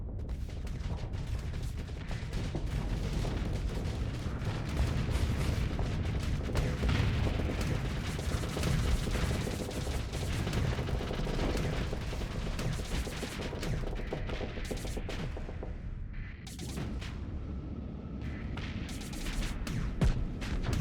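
Weapons on spaceships fire in a steady dense barrage in the space combat game Starsector, with rapid overlapping shots and booms running nearly nonstop for twenty seconds and a short dip near the end.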